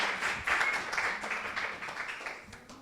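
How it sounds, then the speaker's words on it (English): Applause rises from an audience at an accelerator program's final presentations, a dense, steady patter of clapping that swells briefly and then slowly tapers off. "please give my people a round of applause"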